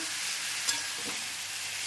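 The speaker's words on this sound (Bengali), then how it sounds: "কালো জিরে ফোড়ন দিয়ে এরপর বেগুনটা ভাজা হচ্ছে।" Eggplant frying in hot oil with black cumin seeds for a Bengali fish curry makes a continuous bright sizzle with one quick stirring clink, close and even throughout.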